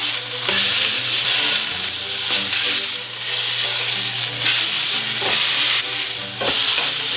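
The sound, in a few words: searing the sides of a pork shoulder roast in a pan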